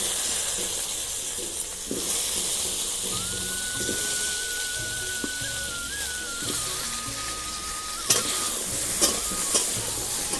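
Mango pieces stirred and frying in oil in a pan, with a steady sizzle and hiss throughout, broken by a few sharp scrapes and clinks of the spoon near the end.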